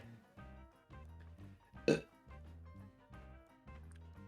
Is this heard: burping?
yes